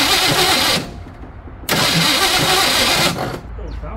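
An abandoned Ford F350 U-Haul rental truck engine cranks in two loud, sustained bursts with a brief pause between, the rough churning close and steady before cutting off.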